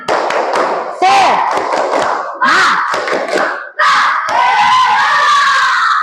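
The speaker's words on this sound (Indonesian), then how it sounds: "Coba tepuk semangat dulu. Tepuk semangat." Schoolchildren in an Indonesian classroom perform the tepuk semangat clapping chant, loud bursts of rhythmic claps and shouted chanted voices in several phrases, with brief pauses between them.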